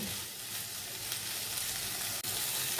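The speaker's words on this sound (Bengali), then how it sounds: "এইবার এটাকে এইভাবে নাড়বো গ্যাস বাড়িয়ে দিয়েছি" Pointed gourd in lemon juice hisses in a pan over high gas, a dense, even frying sizzle as it is stirred, with one sharp click near the end.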